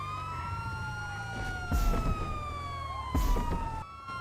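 Police vehicle sirens in the video game GTA Online wail steadily together, their pitches sliding slowly, with two short bursts of louder engine and crash noise.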